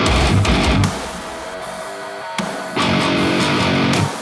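Heavy metalcore rhythm guitars, loud and distorted, playing chugging riffs that break off briefly around the middle before returning at full force.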